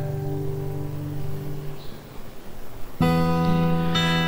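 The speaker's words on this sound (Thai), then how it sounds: "นี่คือเสียงกีตาร์จากตัวนี้นะครับ" Sustained acoustic guitar chords ring steadily, recorded through a BM800 microphone, fading a little before a fresh, louder strum at about three seconds brings bright, full harmonics, with no voices.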